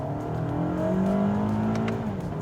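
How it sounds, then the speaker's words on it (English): A 2023 Toyota Camry's non-turbo engine revs smoothly, a close steady hum that climbs and dips in pitch, heard alone without talk. "loves to rev. Wow, what a glorious, smooth"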